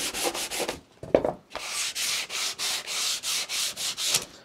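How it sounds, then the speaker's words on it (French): The edge of a painting support is sanded by hand in quick, regular back-and-forth strokes, a close rasping rhythm with a short pause early on. "je vais juste poncer un petit peu ça"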